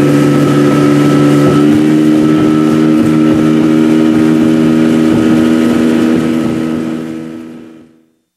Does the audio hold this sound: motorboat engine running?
yes